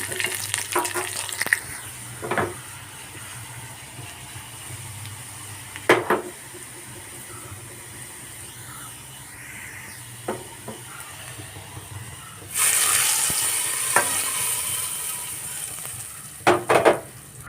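Shallots, curry leaves and fenugreek seeds fry in hot oil for an egg curry, sizzling steadily up close with occasional sharp spatters and a louder burst of hissing partway through.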